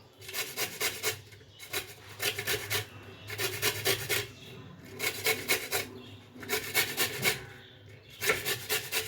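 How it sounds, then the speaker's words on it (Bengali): Raw green mango rubbed against a hand grater in a kitchen, steady rasping strokes in a repeating rhythm of bursts with short pauses, close and fairly loud with no talking. "এভাবে সব আমি আমগুলো ঘষে নেব"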